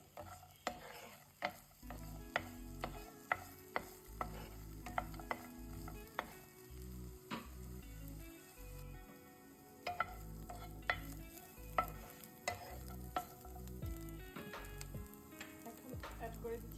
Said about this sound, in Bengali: শুকনা কলা এবার একটু ভেজে নিচ্ছি